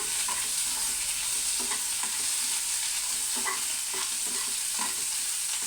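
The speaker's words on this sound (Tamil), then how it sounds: "பூண்டு வெங்காயம் வதங்கட்டும்" Onion and garlic saute in a pan for tomato chutney, a continuous loud sizzle with scattered scraping stir strokes throughout, no voices.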